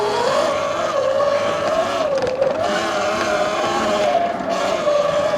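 A 12,000-watt E Ride Pro SS 2.0 electric bike ridden hard off-road on steep dirt trails, a loud continuous high motor whine that rises and dips with throttle, with wind and terrain rustle and no talk.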